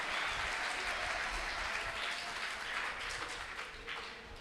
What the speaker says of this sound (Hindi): जरा एक बार तालियां बजा दीजिए भाई